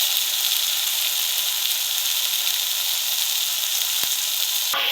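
Spice masala for an egg curry frying on a low flame, a steady bright sizzle throughout with a couple of sharp stirring taps near the end, close and even, no voices.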